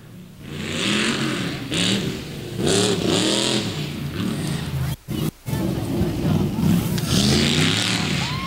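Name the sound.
tough truck engine revving at speedway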